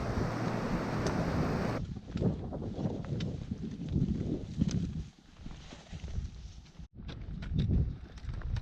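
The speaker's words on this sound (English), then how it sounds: "we are enjoying that breeze and the cool this morning" Morning breeze on a backcountry trail along the Brazeau in Jasper National Park rushes and buffets steadily, a loud, close wind roar that surges and dips with a brief lull near the end.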